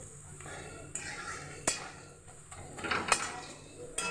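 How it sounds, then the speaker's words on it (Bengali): Chilli powder and turmeric are stirred in a pan for chicken malai curry, with a few sharp spatula knocks and scrapes over a soft, steady kitchen background. "এবার ভালো করে মশলাটাকে নেড়ে নিয়ে"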